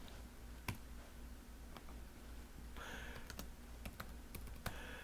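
Typing on a computer keyboard to enter Greek letters into Anki flashcards, a sparse run of faint, quiet key clicks with a short burst of faster keystrokes in the middle.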